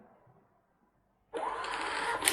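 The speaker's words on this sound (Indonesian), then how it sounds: "Maka printer akan mencetak bill." A restaurant cashier system's receipt printer prints a bill, starting abruptly after a quiet moment with a steady, loud buzzing whir of the thermal print head and paper feed, ending with a slight click.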